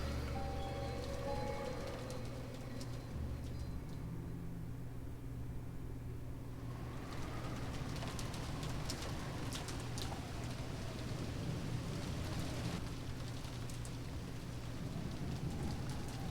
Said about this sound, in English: Filled only with the sound of the rain.